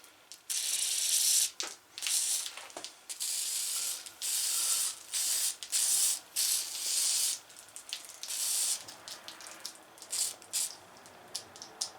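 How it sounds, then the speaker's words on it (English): A spray can hisses onto a part during a John Deere 318 lawn tractor teardown, in repeated close bursts of one to two seconds with brief pauses and faint handling clicks between them. "I'm going to give this thing a good squirt too"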